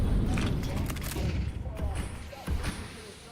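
Gunfire from a Counter-Strike match, a brisk burst of shots and impacts under a busy game mix, with crowd-like wash and a louder pop near the end; a caster talks over it.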